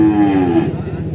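A water buffalo lows at the Purwakarta livestock market in Indonesia, one loud, close, drawn-out moo standing alone without speech.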